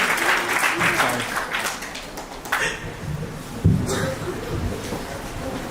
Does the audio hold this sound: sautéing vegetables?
no